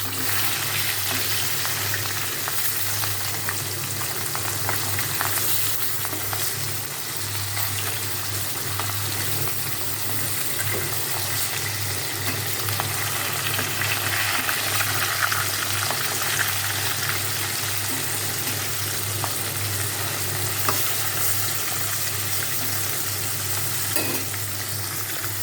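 Food fries in a pan with a steady, loud sizzle that fills the whole stretch, broken now and then by the scrape of stirring, with no talk over it.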